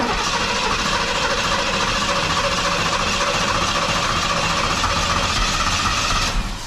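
A 1992 Pontiac Firebird Trans Am cranks over on the key turn, a loud, steady starter-and-engine roar that runs without a break for about six seconds and then cuts off abruptly.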